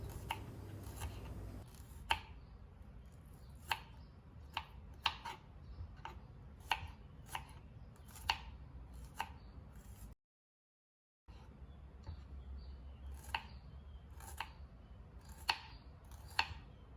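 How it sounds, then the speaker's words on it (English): A knife slicing shallots on a cutting board for Malaysian nasi lemak, with crisp regular cuts about once a second, close and fairly quiet, broken by a brief silent pause. "And now slice the shallots."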